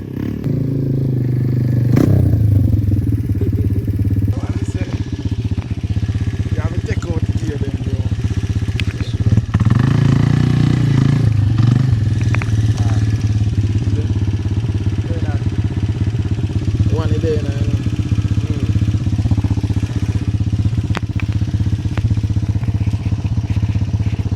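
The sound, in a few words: motorcycle engine running while riding in gear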